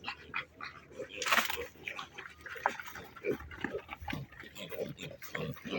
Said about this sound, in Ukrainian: Ну і наші наші поросятки.